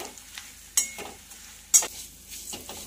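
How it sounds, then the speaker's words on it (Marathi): Poha with turmeric, cumin and salt roasting in a little oil in a pan, soft spatula scrapes and a faint sizzle broken by two sharper knocks against the pan. "अगदी कमी तेलामध्ये हे पोहे छानपैकी भाजतात"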